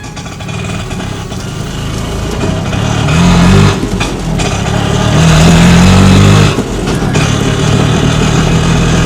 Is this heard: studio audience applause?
no